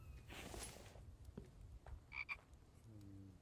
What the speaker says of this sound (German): Ich höre gerade einen Frosch.